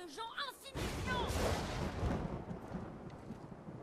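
Thunder rumbles through a stormy scene in the video game God of War, a long loud rolling boom that fills the clip after a brief bit of character voices at the start.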